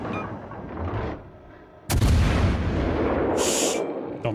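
A single loud, close gunshot from a hunting shot outdoors: one sharp crack about halfway through, followed by a long rolling boom and echo over steady background rumble, with no talking.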